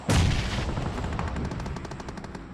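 Rapid automatic gunfire from the battle royale game PUBG Mobile opens with a loud burst, then continues as a fast, steady string of shots ringing out for a couple of seconds.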